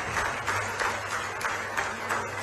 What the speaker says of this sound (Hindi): खड़े होकर डॉक्टर मोहन यादव जी का हम सब तालियों की गड़गड़ाहट के साथ अभिनंदन करते हैं।